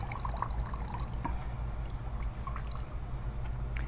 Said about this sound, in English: lift that up, let the water drain out